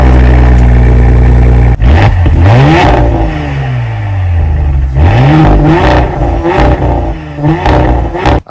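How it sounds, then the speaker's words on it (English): A stock Audi S4 engine cold-starting, rising into loud revving bursts with pitch sweeps up and down, then settling between repeated throttle blips, close and alone with no talk. "I want to hear the cold start before we look at the interior."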